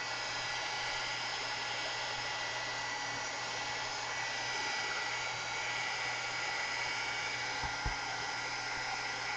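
A hair dryer blows a steady, close whir over texture paste on a mixed media canvas, running continuously with no break.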